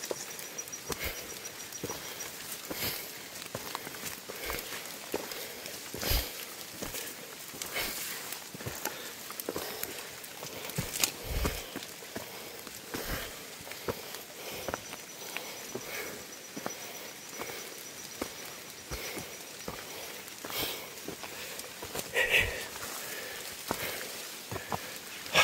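Rain on a mountain trail at Mt. Mantalingahan, a soft ongoing patter with scattered sharper drops and occasional footstep-like knocks, fairly quiet and without speech.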